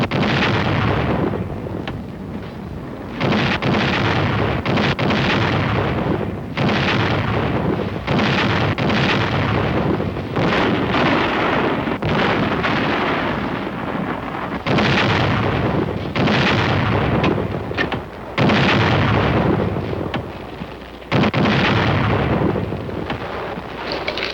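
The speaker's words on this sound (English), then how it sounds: "Number 1 gun, fire!" Korean War artillery guns fire a long series of heavy, booming blasts, each a loud roaring rumble with a short gap before the next, dominating the scene.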